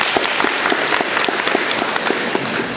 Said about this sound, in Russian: давайте похлопаем этому великому человеку.